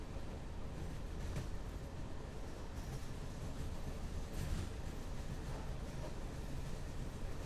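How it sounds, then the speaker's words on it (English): A passenger train on the Budapest–Belgrade railway rolls toward Budapest, giving a steady, moderately quiet rumble with faint rhythmic clatter that runs unbroken throughout. "As the train gets closer to Budapest"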